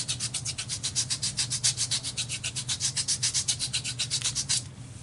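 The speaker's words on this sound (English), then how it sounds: "The best way I like to season my stamps is just to rub them on my arm." A new rubber stamp is rubbed briskly back and forth on a bare arm, a rapid rhythmic series of about thirty close swishing strokes that stops just before the end, with no talking.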